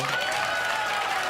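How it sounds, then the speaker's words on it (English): Audience applause comes as a brief, dense, steady wash of clapping, moderately quiet and heard alone for about a second. "Get out a round of applause, bro."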